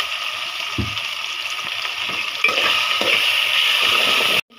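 Ginger garlic paste sizzles in hot oil in a pan while broiler chicken curry is being cooked, a steady hissing fry that swells louder midway and continues alone, with faint clinks underneath.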